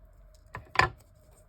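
Scissors trimming pieces of card stock for a handmade card and box kit, two short close snips a quarter second apart in an otherwise quiet room.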